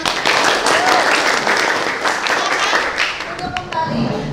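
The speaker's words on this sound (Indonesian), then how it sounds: "tepuk tangan untuk" A classroom claps after a poem recitation in a civics lesson, dense hand clapping that is loud at first and thins out toward the end, with voices speaking over it.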